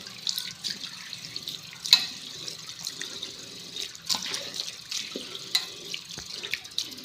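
A steel kitchen tap runs into a basin as both are rinsed clean. Water splashes and patters unevenly close by, with small drips and knocks of hands in the stream. The sound stays fairly quiet and steady throughout.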